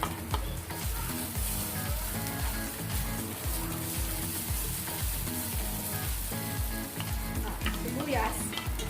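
Ginger stir-fries in hot oil in a pan for a pork and green mustard stir fry, a loud, busy sizzle with repeated scraping and stirring strokes, heard alone with background music.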